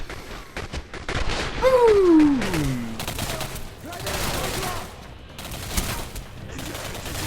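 Rapid gunfire crackles in dense bursts during a shooter video game, with a voice swooping over the shots and busy sustained combat noise throughout.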